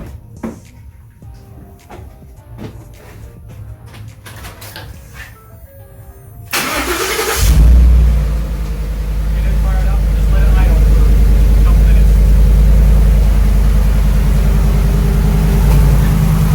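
A 2011-2014 Ford F150 with a 5.0L V8, freshly fitted with new spark plugs, cranks and fires up after some clicks and handling noises, then settles into a loud, steady idle rumble close by.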